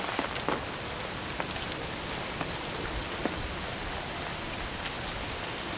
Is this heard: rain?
yes